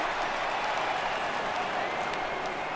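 Simulated baseball stadium crowd in MLB The Show 18, a restless home crowd at a Nationals–Blue Jays game, a steady wide roar with scattered clapping and cheers throughout.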